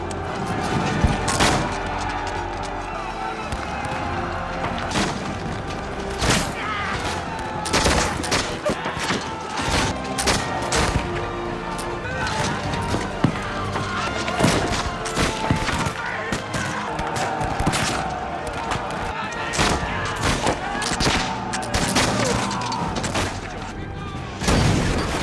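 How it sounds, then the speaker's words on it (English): Cannon fire and gunshots crackle and boom during a dusk battle at the Alamo, a dense, continuous barrage of loud sharp blasts and rumbling reports with no pauses throughout. "The defenders fight back fiercely as cannon, fire, and gunshots echo through the night sky."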